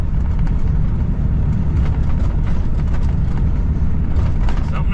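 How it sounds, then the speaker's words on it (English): A diesel truck's turbocharged engine drones loud and steady, a dense unbroken rumble with faint higher whine running throughout. "the whistling turbo"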